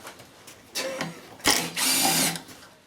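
A Makita impact screwdriver whirs in a few short bursts, the longest lasting under a second, fairly close and moderately loud, with no talk.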